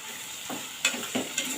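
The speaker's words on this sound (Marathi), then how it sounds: "आता कांदा चांगला परतून घेऊया कांदा चांगला मऊ होईपर्यंत आपल्याला परतायचा आहे" Chopped onions frying in a pan for a methi malai matar curry, soft steady sizzle with three quick spoon scrapes as they are stirred; fairly quiet, no talking.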